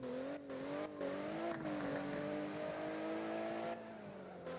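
A Porsche engine in the Roblox game Driving Empire revs steadily with a droning, slightly rising and falling pitch, clear and continuous with brief gear-shift dips.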